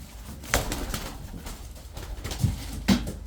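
Tumbler pigeons coo in soft, repeated throaty phrases, with a few sharper bursts like brief wing flaps or movement nearby.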